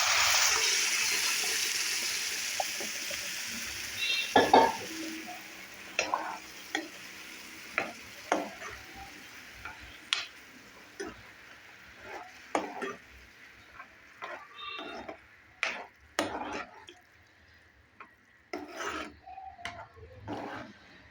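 Dal poured into hot fried tempering in a pan for dhaba-style dal fry sizzles loudly at first, then settles into a softer hiss under repeated clinks and scrapes of a spoon stirring against the pan.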